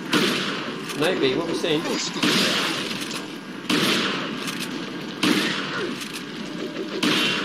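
Shotgun blasts in Resident Evil 4 boom at a steady rhythm, roughly every one and a half seconds, with a voice talking over parts of the action.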